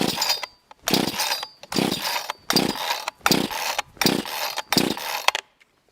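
A cheap budget chainsaw bought off Amazon runs in six loud, even bursts of buzzing engine noise, each about half a second long with short silent gaps between them.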